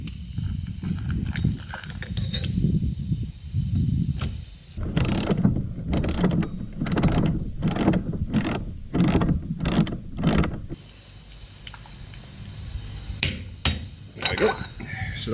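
A torque wrench ratchets a bolt down to 130 during a 54 ft sailboat refit, giving a run of sharp, evenly spaced clicks in the middle with low talk and rumble before and after.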